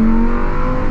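Lamborghini Huracan STO engine revving hard and close, a loud, steady high-pitched mechanical roar held continuously with no pause.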